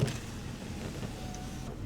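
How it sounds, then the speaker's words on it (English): Power rear glass on a 2011 Chevrolet Silverado 3500 HD LT 4x4 diesel pickup slides, giving a steady electric motor whir that runs close and even for about two seconds inside the cab. "Here's the control for the power rear glass."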